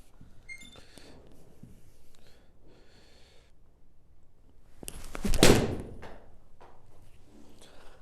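A 1960 Slazenger Fireball golf ball is struck once, a dull thud around mid-clip and louder than the faint outdoor background on either side.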